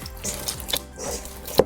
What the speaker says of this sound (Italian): Aggiungiamo la restante acqua a filo